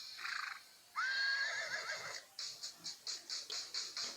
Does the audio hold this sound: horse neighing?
yes